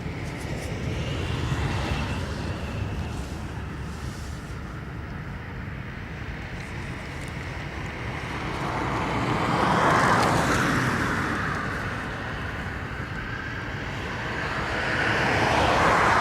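An ATR turboprop airliner departs Dublin Airport, its steady engine roar heard from a distance and swelling as it passes, with a rushing wind-like texture.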